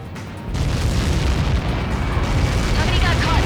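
A large explosion in the combat flight game Ace Combat 7 erupts into a loud, sustained roaring rumble that holds steady for several seconds after the initial blast, with no speech over it.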